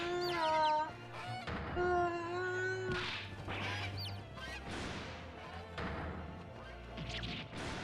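In the Great Ace Attorney Chronicles video game, a flurry of birds bursts out of a hat, with honking, squawking calls, wing flaps and crashes over game music.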